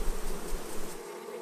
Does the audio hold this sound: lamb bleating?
no